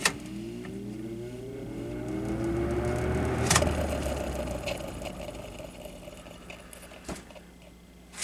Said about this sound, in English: let's do the medium speed startup sound